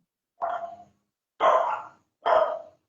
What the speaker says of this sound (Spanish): Ahí ladra el perro